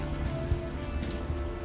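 Steady rain falls in the video game Unavowed, a dense, continuous patter on surfaces with a low rumble beneath, even and moderately loud throughout.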